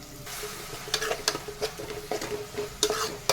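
Onions and tomatoes fry in oil in a pan with cumin, a steady close sizzle broken by repeated scraping stirs every half second or so.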